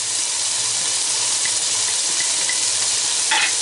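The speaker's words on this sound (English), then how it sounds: "Going to give that a stir." Chopped plum tomatoes and ginger paste sizzle steadily in a pan for a mutton curry, with a constant bright hiss and faint scraping as the mixture is stirred, close and fairly loud, no talking.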